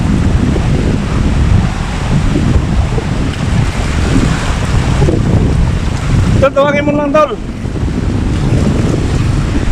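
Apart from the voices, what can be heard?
strong ocean waves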